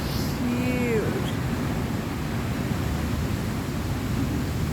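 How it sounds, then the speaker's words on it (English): Large ocean waves crash against a seawall in a steady, broad roar of surf that fills the whole stretch, loud and continuous with no clear gaps between breakers. "These waves are huge."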